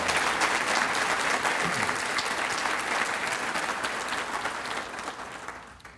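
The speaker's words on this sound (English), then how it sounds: "Would you please give all of our sponsors a round of applause?" An audience at a school district's State of the District event gives a sustained round of applause for sponsors, dense clapping that fills the hall for several seconds before slowly tapering off.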